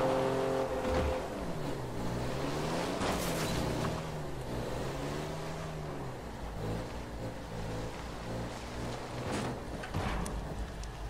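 In Fortnite, a car drives along with a continuous engine hum that rises and falls as it revs, loud and steady throughout, with a slight rain-like hiss in the background.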